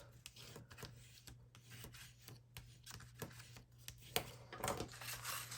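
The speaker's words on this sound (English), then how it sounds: "Just like that, and bring it up and burnish." Paper is burnished by hand while a vintage Halloween stacked folio is assembled, giving soft repeated rubbing and scraping strokes in an uneven rhythm, faint and close, over a low hum.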